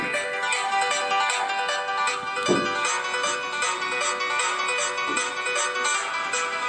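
A looping ringtone melody plays from a Motorola Razr V8 luxury edition phone, bright repeated electronic tones steady and close, with a couple of faint soft knocks beneath and no speech.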